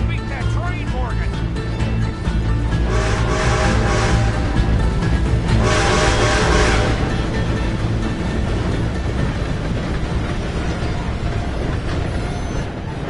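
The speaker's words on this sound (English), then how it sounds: "Gotta beat that train" A train rumbles past in the Western game Red Dead Redemption 2, a loud continuous rolling roar under shouted voices, swelling in the middle and then holding steady.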